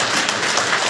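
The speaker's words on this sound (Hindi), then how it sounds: "एंटायर लीडरशिप के लिए एक बार प्यार से दिल से जोरदार ताली बजाइए।" Seminar audience applauding the leadership, a dense steady wash of many hands clapping in a large room, continuous and fairly loud throughout.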